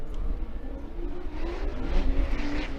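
Formula Drift cars accelerate off the start line in a 2022 competition battle, engines rising in pitch as they rev and pull away, moderately loud with no talk.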